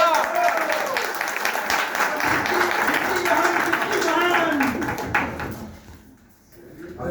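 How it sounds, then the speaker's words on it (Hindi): Applause at an office opening ceremony, dense clapping mixed with voices and crowd chatter, fading out near the end. "जोरदार ताली आवाज।"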